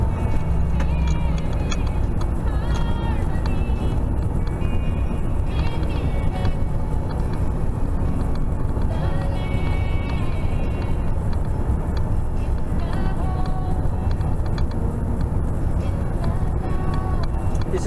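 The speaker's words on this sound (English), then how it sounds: "Thousands and thousands and thousands of cars and trucks, all heading up the road and all going nowhere fast." Thousands of cars and trucks stand jammed on a German road, giving a dense, steady low rumble of idling and creeping engines that goes on unbroken from start to end.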